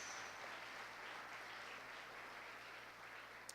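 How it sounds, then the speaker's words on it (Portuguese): A church congregation applauds in praise, a faint, steady hiss of many hands clapping that continues evenly throughout, heard from a distance. "Uma salva de palmas ao Senhor nosso Deus."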